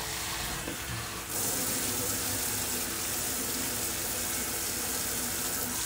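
Tap water runs while dishes are washed in a kitchen sink, starting after a brief moment and continuing as a close, steady rushing stream with faint clinks and no talking.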